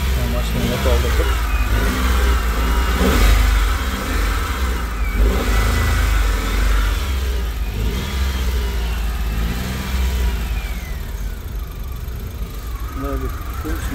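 A 2018 Daewoo Labo small truck running on gas idles and revs steadily, its engine hum loud and continuous under a voice talking.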